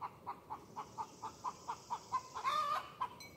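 A backyard hen clucks in a steady series of short, evenly spaced calls, about a dozen in a row, ending with a longer, rising squawk; moderately close against quiet outdoor background.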